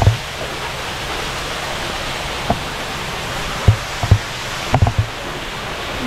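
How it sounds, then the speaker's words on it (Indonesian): An artificial waterfall pours into a fish pond stocked with red tilapia, a steady close rush of water broken by a few soft knocks. "Dibuat air terjun."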